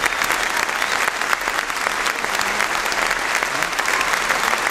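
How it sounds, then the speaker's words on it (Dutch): Steady, dense applause from a concert audience for the soloists and percussionist of Philharmonie Sittard, a continuous wash of many clapping hands that holds at an even level throughout. "En applaus voor de solisten, de slagwerker."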